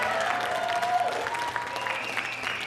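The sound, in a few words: audience applause for the bassist at a jazz trio show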